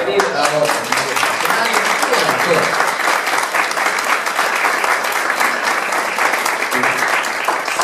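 A theater audience rises in a standing ovation, loud dense applause sustained evenly throughout with crowd murmur mixed in.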